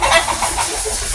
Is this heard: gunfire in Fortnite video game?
no